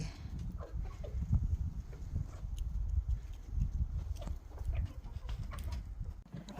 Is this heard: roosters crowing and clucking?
yes